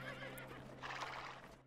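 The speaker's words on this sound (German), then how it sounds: "Sagt er und das Pferd wieherte." A horse whinnies in the strategy game Die Gilde 3, a single drawn-out neigh that rises and wavers over a steady low in-game hum, fairly close and clear, with no talk over it.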